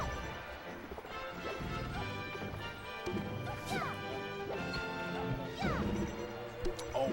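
Down smash attacks landing in a Super Smash Bros. Melee match, sharp crashing hits and whooshes over busy game music and crowd noise, several impacts in quick succession.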